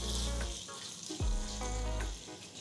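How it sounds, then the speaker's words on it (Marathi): Ginger, garlic, chilli, coriander and mint paste fries with softened onions, giving a loud continuous sizzle close up, with a brief splash near the middle. "आता ह्याच्यात आपण 2 टेबलस्पून आलं, लसूण, मिरची, कोथिंबीर आणि पुदिना याची पेस्ट घालायची."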